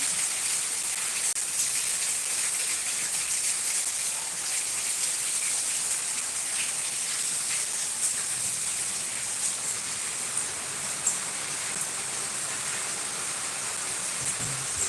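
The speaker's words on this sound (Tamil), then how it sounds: "வர வர மழை கூட்டிகிட்டே தான் போகுது" Heavy rain pouring down in a steady, dense hiss that stays even and close throughout, with no voices over it.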